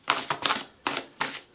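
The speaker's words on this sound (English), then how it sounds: "We are shuffling." Tarot cards being shuffled up close, four quick riffling bursts in a loose rhythm, crisp and papery, with no talking.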